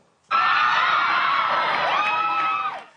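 An American concert audience cheers and screams as a performer tries a stage dive, a dense sustained roar of whoops and yells that starts abruptly, holds loud for a couple of seconds, then tapers off.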